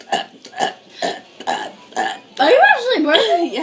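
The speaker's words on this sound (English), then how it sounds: "Are you actually burping?" A person burps repeatedly during a burping challenge: a string of short, loud belches in quick succession, then one long drawn-out warbling burp, close to the mic with faint voices nearby.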